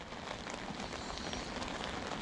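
Steady rain patters on an umbrella and the ground beside a fishing spot, a soft, even hiss with no voices.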